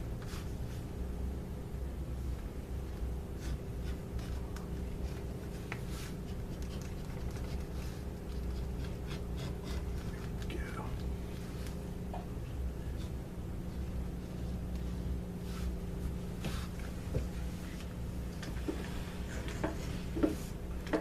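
An edge beveler shaves along the edges of a leather strap, giving faint scratchy strokes over a steady low background hum, with no talking.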